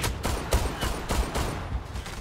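Gunfire from the online shooter Zula: a steady run of rapid, evenly spaced shots, loud and close, filling the whole short stretch with no talk.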